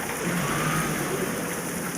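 Rain falls in a truck driving video game as a steady, dense hiss of drops that holds at an even level throughout.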